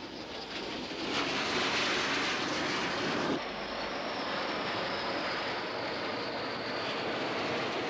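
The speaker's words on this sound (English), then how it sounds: "In the first wave, French-built Mystère fighter bombers." French-built Mystère fighter bomber roaring overhead with a loud, steady broadband jet rush that swells after the first second and holds strong, its tone shifting about midway as the aircraft passes, no voices present.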